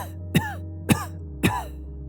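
Three short, hoarse coughs spaced evenly apart, close and fairly quiet, with a low hum underneath.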